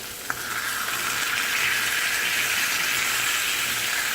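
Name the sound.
orange glaze on pork chops sizzling on the grill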